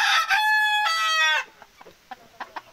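Sonali desi chickens cluck and a rooster crows loudly up close in a poultry shed, followed by a few short, sparse clucks as the birds settle.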